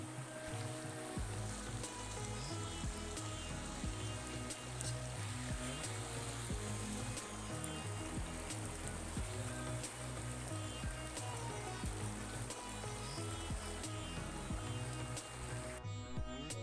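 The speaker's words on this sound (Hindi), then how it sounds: "एक साइड चावल हैं, दूसरे साइड पूरियाँ बना रही हूँ" Puris deep-frying in hot oil in a pan, a steady broadband sizzle that holds evenly throughout, with no talk over it.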